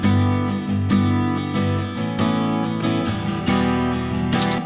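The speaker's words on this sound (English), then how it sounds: "ribbon mics are great on acoustic guitars." Acoustic guitar strummed and picked in a steady chordal pattern, captured close by a single side of an AEA R88 stereo ribbon microphone, with a bright, full tone and no voices.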